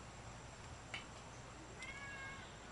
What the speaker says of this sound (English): My cat's in.